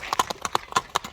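Horse hooves clip-clop on hard ground, about eight sharp, evenly spaced strikes in quick rhythm, close and fairly loud with no talk over them.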